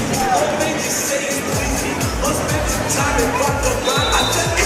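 A large crowd fills an indoor soccer arena at a Florida Tropics game in Lakeland against the Baltimore Blast, producing a steady, loud hubbub with a talking voice running over it.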